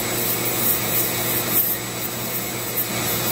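A Dremel rotary tool carves into a wooden staff, giving a close, continuous gritty rubbing and grinding with small bursts as the bit bites.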